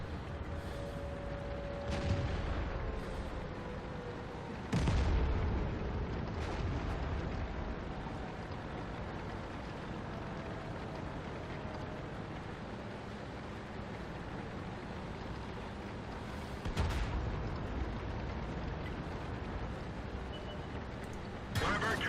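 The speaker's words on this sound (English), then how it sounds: "what's with these tanks exploding all over the place?" Tank battles in World of Tanks, featuring the T25/2 on the Redshire map: a steady rumbling battle bed punctuated by several sharp explosive blasts near 2, 5, 17 and 22 seconds, with faint voices underneath.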